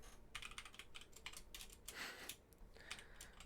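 Quiet, close typing on a computer keyboard while writing Python code, a quick run of light clicks in bursts with a brief louder cluster midway.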